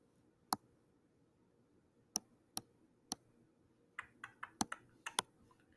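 Computer keyboard keys typed up close: a few isolated clicks spaced apart, then a quicker irregular burst of keystrokes, with no voices.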